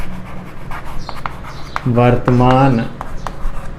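Chalk or marker scratching across a classroom board while a maths lesson is taught, faint scraping strokes running under continuous talk by the teacher.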